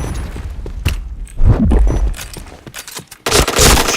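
Rapid bursts of video game gunfire crack out close and loud in a shooting match, with heavy booming shots, and a denser volley breaking out near the end.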